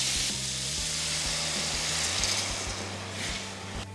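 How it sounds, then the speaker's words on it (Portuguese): Diced ham and peas frying in a hot pan as white wine is added to deglaze, giving a steady close sizzle with faint stirring scrapes and no talking. "E agora eu vou deglaçar com vinho branco"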